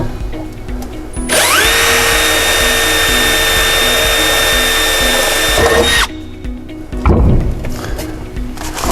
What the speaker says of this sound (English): So the first thing I'm going to do is drill a hole here.